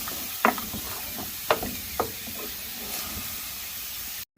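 Spinach chicken curry frying in a pan, a steady soft sizzle and hiss with a few sharp clicks of a spoon stirring against the pan.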